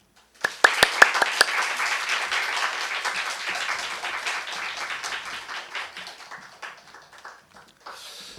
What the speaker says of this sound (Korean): 나오실 때에 은혜를 사모하는 마음으로 열렬한 박수로 환영해 주시겠습니다.